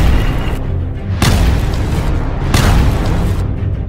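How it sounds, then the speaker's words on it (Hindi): Several heavy booms from missile strikes on Hezbollah military posts near the Lebanon–Israel border roll out one after another, each a loud blast followed by a sustained rumbling tail and no talk. "जिसमें लेबनान और इजराइल की सीमा के पास मौजूद कुछ फौजी ठिकानों पर धमाके होते दिखाई दिए।"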